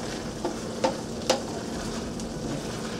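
Egg being stirred into shrimp in oyster sauce in a pan, a soft steady sizzle with a few light scraping clinks of a utensil, close and alone without voices.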